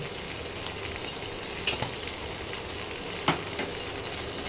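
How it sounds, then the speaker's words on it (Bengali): Spices sizzle steadily in hot oil while being cooked down for a rohu fish curry, with occasional scraping clinks of a spoon stirring the pan, close and continuous. "এটাকে ভালো করে কষিয়ে নিই"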